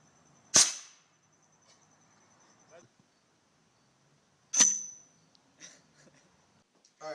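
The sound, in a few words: gun shooting AA battery into ballistic pendulum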